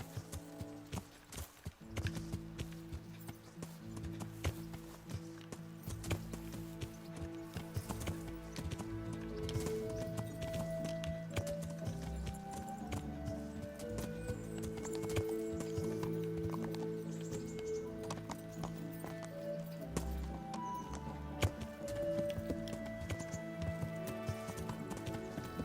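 Horse hooves clip-clop at a steady riding pace in the medieval video game Kingdom Come: Deliverance, blended with game music and ambient sound at a moderate, continuous level.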